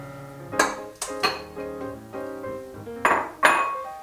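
Two eggs cracked against a bowl rim for cookie dough, sharp ringing taps and clinks in a quick uneven series, close and clear with ringing tones between strikes.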